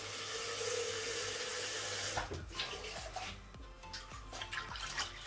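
Water pours into a cooking pot for mutton paya in a steady rushing stream for about two seconds, followed by splashes, drips and sloshing as the flow stops.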